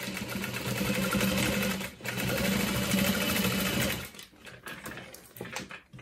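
A sewing machine runs a steady, loud stitching burr while sewing a seam on a satchel bag, with a brief pause near the two-second mark before it resumes, then slows into softer, intermittent stitching and handling noise.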